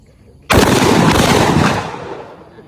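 A single loud, close blast from a short shotgun rings out with a sudden sharp onset, then a booming roar that fades away over about a second.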